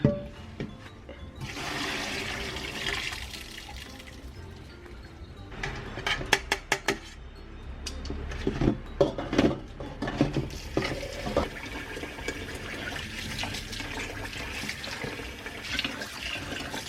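Sticky rice rinsed with clean water in a container, with running and swirling water, sloshing and grains knocking against the vessel, some clatter, fairly loud and close, without speech.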